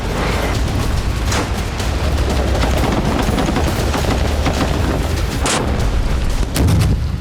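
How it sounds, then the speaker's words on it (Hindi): Bombardment and gunfire over Gaza's residential refugee camps, a dense, loud, sustained roar of booming blasts and crackling shots with several sharper impacts standing out near the start and end. "जबालिया कैंप, शांति रिफ्यूजी कैंप और शुजाया कैंप के रिहायशी इलाकों पर बमबारी की जा रही है"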